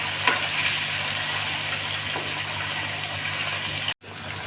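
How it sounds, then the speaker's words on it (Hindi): Chicken pieces fry in a pan for a chicken aloo salan, giving a steady close hissing sizzle with a faint low hum beneath and a few small crackles, cut briefly by a sharp break near the end. "चिकन शामिल कर दी है हमने। अब इसको फ्राई कर लेंगे"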